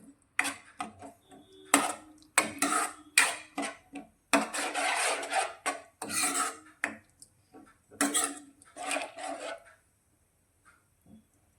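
A spoon stirs cornflour slurry into Manchurian gravy in a pan, making irregular scraping and rubbing strokes with clicks against the metal, close by and fading out toward the end.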